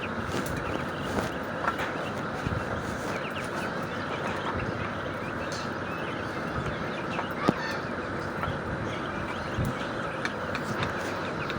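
Hens and chicks peck and cluck softly while feeding, scattered small calls and scratching over a busy background murmur at close range.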